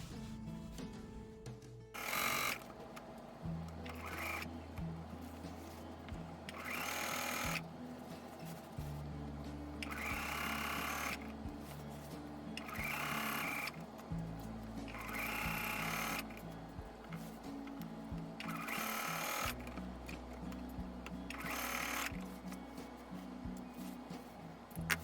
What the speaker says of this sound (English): So let's start sewing now